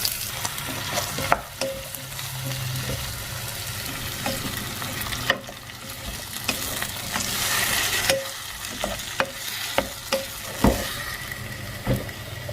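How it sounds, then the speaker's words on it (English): Tomatoes fried with chili and salt for a tomato curry, stirred in a hot pan: continuous sizzling broken by repeated sharp spoon scrapes and knocks against the pan, close and without speech. "Now I'm adding tomatoes."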